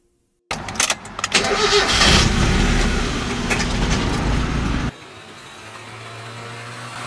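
A 1999 Mazda MX-5 NB in a Need for Speed game starts up with a sharp crank and a loud revving burst, holds a raspy roar for a few seconds, then cuts to a quieter idle.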